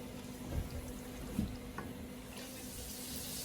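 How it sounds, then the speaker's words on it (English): Water is poured into a cooking pot while making fish benechin, a faint, continuous liquid trickle with a few soft splashes and clunks, quiet and without talk. "so I'm going to add more water."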